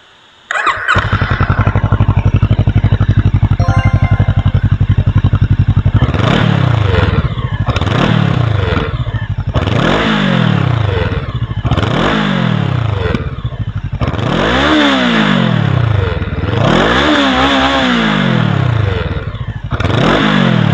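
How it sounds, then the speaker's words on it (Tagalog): An FKM Expres 500 SC scrambler motorcycle idles steadily close by, then its engine is revved again and again in loud rising-and-falling bursts with brief dips between them. "masasakyan na natin ang bagong scrambler bike ng FKM"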